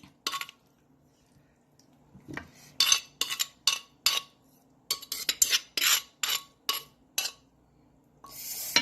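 Som tam papaya salad tipped and scraped onto a plate, giving a run of sharp, close clinks and scrapes of utensil on dish, separated by brief quiet gaps.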